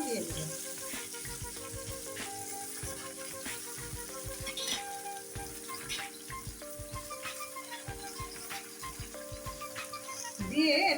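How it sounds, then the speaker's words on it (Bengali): Sweet jujube berries for pickle being stirred and fried in oil in a wok, a continuous bright sizzle with rhythmic scraping and clacking of a spatula, close and steady, no voices. "দিয়ে এটাকে আমি 2-3 মিনিটের মতো ভালো করে নেড়ে চেড়ে তেলের সাথে"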